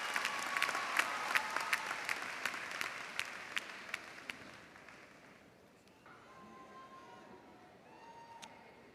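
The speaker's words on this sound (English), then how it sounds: "Please join me in giving our scholarship winners a big round of applause." Applause from a high school graduation audience for scholarship winners, rhythmic clapping moderately distant for about four seconds, then fading into a quieter murmur with a few scattered claps.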